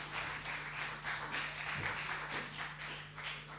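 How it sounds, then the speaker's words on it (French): Audience applause at a student journalist festival broadcast, a steady, dense clapping that holds at an even level for several seconds over a faint low hum. "On l'accompagne avec vos applaudissements"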